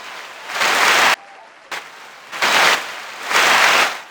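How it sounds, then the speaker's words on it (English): Heavy rain outside pours in loud broadband bursts that rise and cut off abruptly three times, separated by quieter gaps with a faint knock between them. "it's really heavy rain out there"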